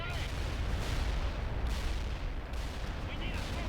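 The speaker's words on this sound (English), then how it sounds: "I'm gonna launch some smoke here in a second" Game battle sounds from World in Conflict as a smoke round is launched: a continuous loud rumble of distant artillery and gunfire, with dense low booms running through the whole stretch and talking mixed in.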